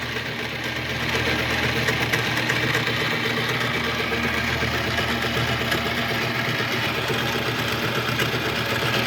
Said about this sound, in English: Using my 3-inch roughing mill